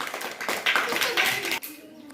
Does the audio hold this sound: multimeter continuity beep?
no